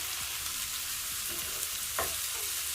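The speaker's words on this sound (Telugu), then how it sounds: "వేసుకొని ఒకసారి కలిపేసి 1 నిమిషం పాటు వీటిని వేయించుకోవాలి" Green chillies and curry leaves fry in hot oil in a pan, giving a steady, even sizzle with a few faint scrapes from stirring and no voices.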